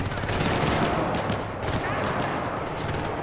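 A pistol fires in rapid succession during a Syndicate (2012) firefight, a loud, dense burst of close shots piling over one another with the reports nearly merged into a continuous rattle.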